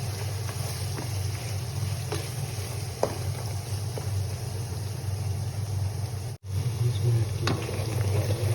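Masala paste for karela gosht sizzles and fries in a pan with the browned meat, a steady close hiss with a few faint clinks and stirring scrapes, and a low hum running underneath.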